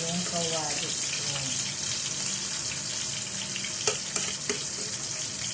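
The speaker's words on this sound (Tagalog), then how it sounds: "Yung isa-isa kong ipiprito kasi maliit yung kawali ko." Zubaidi fish frying one piece at a time in a small pan, a steady close sizzle throughout with a few sharp clinks and taps near the end.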